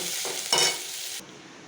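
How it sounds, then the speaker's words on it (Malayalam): Jackfruit sizzles loudly in a hot pan, with a short burst of stirring partway through before the frying settles down. "ഇപ്പം അതൊന്ന് കടക് വറുത്തെടുക്കുകയാണ്"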